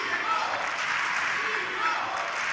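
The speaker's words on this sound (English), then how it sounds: "And Timo with the crowd support here." A table tennis crowd at a world championship team semifinal applauds steadily, a dense sustained clatter of clapping heard throughout, with a commentator's voice faintly over it.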